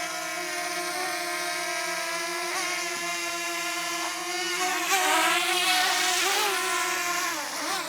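A DJI Neo 2 drone hovers close by with a loud, steady high-pitched propeller whine, its pitch wavering slightly as it shifts in the air, continuous throughout.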